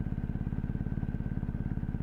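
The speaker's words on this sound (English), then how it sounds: "Oh, I love the farty goodness of this boxer engine." A BMW R1250R boxer-engine motorcycle runs at a steady low, loping rhythm, its deep pulsing exhaust throb close and continuous while riding, with no talk over it.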